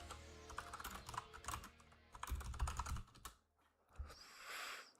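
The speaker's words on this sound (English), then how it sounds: "I'm gonna type to Filthy" Rapid computer keyboard typing in irregular bursts of clicks and key taps, close and fairly loud, heard during a live casting of the real-time strategy game Command & Conquer 3: Kane's Wrath, with no talking over it.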